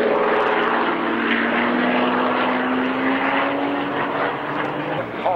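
B-25 Mitchell bomber flying past at the Duxford Flying Legends airshow, a loud droning propeller engine roar with a slowly shifting pitch as it passes in front.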